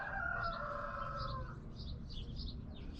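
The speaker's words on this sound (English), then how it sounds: "rooster" A rooster crows once in the distance over steady outdoor background noise, followed by faint bird chirps.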